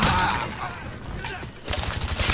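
Gunfire in the Call of Duty Black Ops video game on the Stadium map: loud, dense bursts of rapid shots with a short lull midway, then a renewed stream of close, sharp reports.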